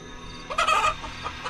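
A live chicken clucks in a short burst of close, agitated calls over a quiet background, in a 2D animated horror story.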